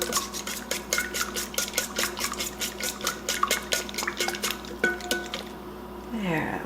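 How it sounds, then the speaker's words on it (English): Fork or whisk beating an egg in a bowl, rapid steady clinking and swishing strokes close up for several seconds, with little talk. "we're just going to want to beat our egg"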